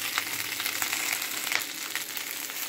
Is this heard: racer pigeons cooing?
no